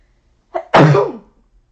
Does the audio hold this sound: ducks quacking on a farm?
no